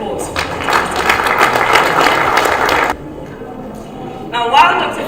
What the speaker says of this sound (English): let's put another round of applause for Dr.